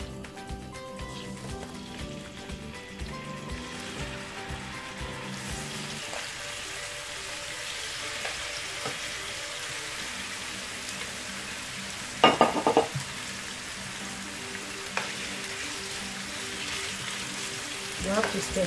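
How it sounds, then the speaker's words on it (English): Chicken sizzles steadily in a hot pan as it is stir-fried for chow mein, a continuous hiss with brief louder scraping bursts from stirring. "So it's time for me to start frying the chicken."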